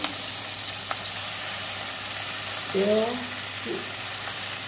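Pieces of elephant foot yam fry in hot oil for a Bengali dalna, giving a steady, moderately loud sizzle throughout, with a brief stirring scrape and clatter near the end and no talking.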